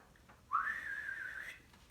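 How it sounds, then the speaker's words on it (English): A person gives one clear, sustained whistle that starts sharply with a slight upward slide and holds steady for about a second before fading, alone against quiet background. "to his team gave a whistle"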